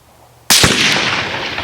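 A Tikka T3x Lite in 6.5 Creedmoor fires a single loud, close rifle shot out of near silence, with a sharp crack followed by a long rolling echo that fades slowly.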